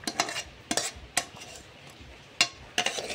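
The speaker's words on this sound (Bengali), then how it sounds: "এখন এই সমস্ত মশলাটা এই খিচুড়িটার মধ্যে মিশিয়ে দেওয়া হচ্ছে" Spices being stirred into khichdi in a pot: a few sharp scraping and clinking strokes of a spoon against the vessel, spaced irregularly over a quiet kitchen background with no talking.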